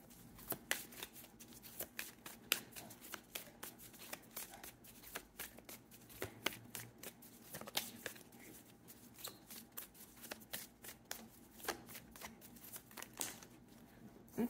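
Tarot cards being shuffled and arranged by hand, a steady run of soft riffling flicks and slaps close by, with no talking.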